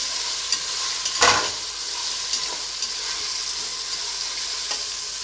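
Vegetables for a vegetable pulao fry on a high flame, giving a steady, close sizzle with a clattering stir near the start and a few lighter scrapes of the utensil after.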